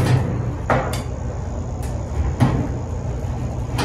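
A handle-less, unlocked budget ammo cabinet door being pried open by hand, giving a few short bangs and rattles of the metal door over a constant loud background hum.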